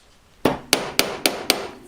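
A hammer strikes a thin strip of metal about 1.1 mm thick to flatten and straighten it, landing five sharp, evenly spaced bangs up close with no talk.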